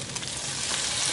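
Tomatoes go into a pan where meat is already frying, giving a soft, steady sizzle that swells slightly over a brief moment, with no talk.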